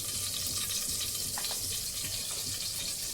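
Ingredients for coconut rice fry in hot oil with a constant crackling sizzle, soft and close, without any voices over it.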